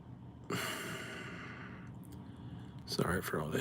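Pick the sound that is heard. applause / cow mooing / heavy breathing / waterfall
heavy breathing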